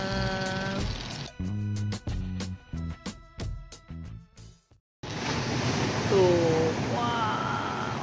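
Big ocean waves crashing on the beach at Anyer in the morning, a loud broadband surf wash that fills the second half after a stretch of choppy sounds and brief tones, with no clear talk.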